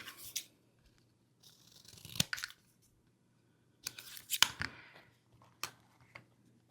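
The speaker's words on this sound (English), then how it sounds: "I'm going to cut it right there where the colors, the part of the picture that has the colors that I have working here" Scissors snip through a paper picture in short separate bursts of crisp cutting, close and fairly quiet, with silent pauses between strokes.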